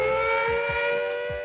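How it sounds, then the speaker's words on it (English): An air raid siren wails in steady, sustained tones, loud and without voices. "And it's that siren, the siren wailing."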